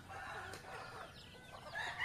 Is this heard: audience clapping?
no